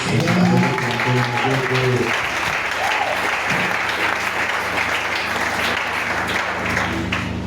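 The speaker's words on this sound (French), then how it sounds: "Est-ce qu'on peut applaudir pour" Church congregation bursting into sustained applause, loud and dense from the start, with a voice and some sustained tones audible early on before the clapping carries on alone.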